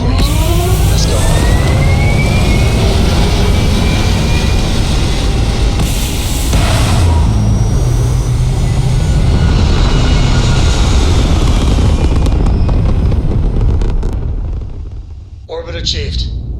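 Spaceship engines roar in a dense, loud, steady rumble during liftoff to orbit in the Starfield video game, holding strong for most of the stretch before fading away near the end.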